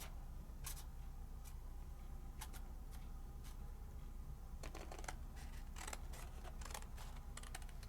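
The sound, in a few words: scissors snipping paper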